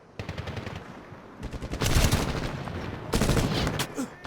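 Bursts of enemy gunfire in a Medal of Honor (2010) battle, sharp rapid cracks arriving in clusters, loud and close, with a heavier volley near the middle and another toward the end.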